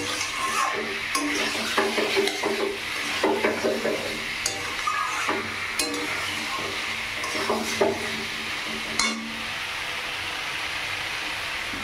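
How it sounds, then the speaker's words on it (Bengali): Cauliflower and potato pieces stir-fried over a raised gas flame, with a spatula scraping and clinking in a metal pan over a steady sizzle, the strokes coming in irregular bursts, close and moderately loud. "এবার একটু গ্যাসের ফ্লেমটা বাড়িয়ে দিচ্ছি, দিয়ে ফুলকপি আলু দিয়ে ভালো করে কষিয়ে নেব।"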